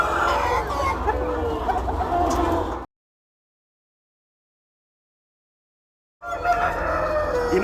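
A prized breeding rooster clucks and crows loudly and close by, a busy burst of calls that cuts out to dead silence partway through, then resumes.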